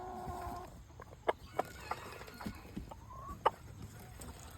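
Several backyard homestead chickens, including old hens and roosters, cluck in short scattered calls at close range over a steady background of farmyard noise, with no talking.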